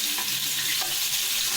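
Chicken 65 frying in a pan of hot oil, a dense continuous sizzle and crackle with light bubbling spatters, close and fairly loud, no voices.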